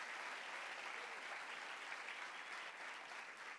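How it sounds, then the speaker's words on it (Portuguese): A church congregation applauding during a live worship service, a dense, continuous wash of many hands clapping at a fairly distant, even level without a break. "você pode aplaudir o nome de Jesus mais uma vez"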